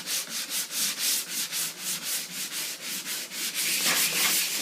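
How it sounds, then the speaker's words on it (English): Sandpaper rubbing back and forth across a shower surface to prepare it for adhesive, a steady rhythmic scratching of about four strokes per second, close and fairly loud, heard alone. "Of course, sand the entire surface that will receive the adhesive."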